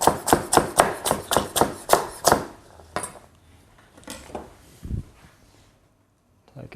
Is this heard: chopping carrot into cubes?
yes